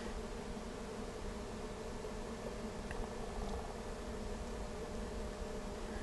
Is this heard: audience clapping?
no